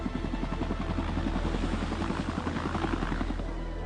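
Rescue helicopter picking sailors out of heavy seas, its rotor thudding in a steady, fast pulse with a droning engine whine, loud and sustained throughout.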